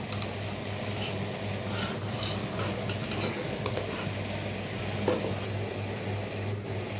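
A spoon stirring tomatoes as they sauté in a pot for mutton biryani, a steady soft sizzle with occasional scraping clinks against the metal, close and continuous.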